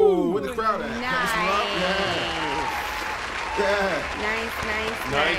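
Live studio audience of a morning show clapping and cheering steadily throughout, with voices talking loudly over the applause.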